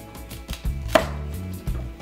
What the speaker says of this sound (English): take off all the leaves, cut it into little pieces.